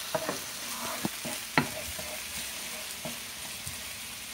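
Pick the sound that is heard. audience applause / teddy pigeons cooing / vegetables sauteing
vegetables sauteing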